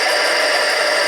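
A Harbor Freight 7x10 mini lathe takes a light cut on an aluminum tube, giving a loud, steady, bright whir and hiss with no pauses.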